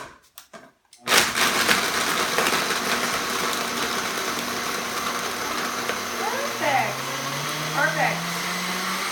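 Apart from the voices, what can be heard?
blender crushing ice for dairy-free chocolate milkshake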